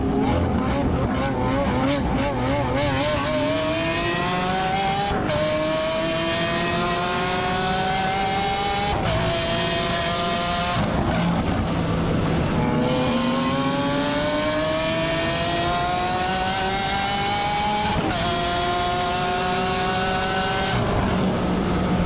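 Engine race between a Chevrolet Camaro and a Mazda Miata: loud, continuous revving that climbs in pitch through several gear changes, with sharp drops at each shift and no talking.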